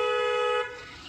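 During a driving lesson in traffic, a car horn gives one short, loud honk of about half a second, then cuts off into low road and engine noise.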